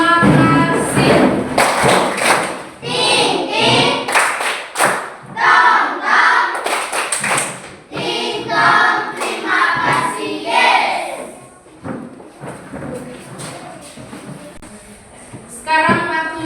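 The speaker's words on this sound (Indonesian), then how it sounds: "Tepuk terima kasih" A classroom group gives a thank-you clap after a presentation, with patterned rhythmic clapping and thumps mixed with chanting voices. The sound is loud and close, fading near the end.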